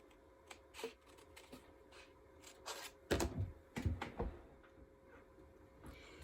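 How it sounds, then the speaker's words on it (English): Scissors cut out a sewing template made of four layers of freezer paper, a series of crisp snips and paper rustles, close and quiet with no talk. "Now I'm going to take it and cut it out exactly on the line."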